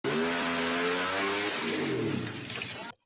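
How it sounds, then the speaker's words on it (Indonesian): A loud modified Honda Vario motorcycle exhaust revs continuously with a harsh, rasping roar, pitch rising and falling, then cuts off abruptly with a bang. "suara knalpot ini juga lebih buruk daripada knalpot ember"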